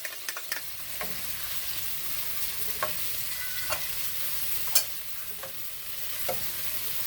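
Garlic sizzling in a pan for stewed salt fish, a soft steady fry with a handful of spaced utensil taps and one sharper clink, fairly quiet and without voices.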